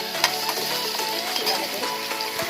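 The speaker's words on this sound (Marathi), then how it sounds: "यासाठी आपण थोडंसं तेल गरम केलेलं आहे, त्याच्यामध्ये आलं आणि लसूण पेस्ट टाकलेली आहे" Ginger-garlic paste sizzles and spits in hot oil, a steady close frying hiss with small pops and brief stirring scrapes throughout.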